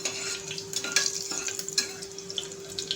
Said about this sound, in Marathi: आता आपण टाकायचं आहे 5-6 लसणाच्या पाकळ्या